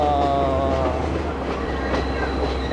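Inside a passenger train crossing Sri Lankan tea plantations, a continuous loud rumble of wheels on rails carries faint rhythmic clacking and a thin metallic whine throughout.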